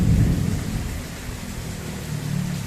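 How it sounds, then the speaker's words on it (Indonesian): Steady rain pours down during a storm outside a mosque in Perumnas 1, Bekasi, with low thunder rumbling underneath, loudest at the start and swelling again near the end, with no voices. "lagi hujan nih, waduh, nggak bisa kemana-mana"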